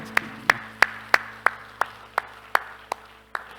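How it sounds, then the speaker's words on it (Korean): A church congregation claps in unison during a worship service. Eleven sharp, evenly spaced claps follow one another at a steady rhythm. "우리 하나님께 영광의 박수합시다"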